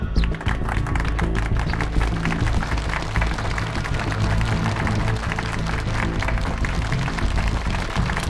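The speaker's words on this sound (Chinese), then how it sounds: "接下来，让我们掌声欢迎谭司令上台致辞。" An audience applauds a speaker at the founding ceremony of a Shanghai merchants' militia bureau, a dense, continuous wash of clapping from many hands that stays loud and steady throughout.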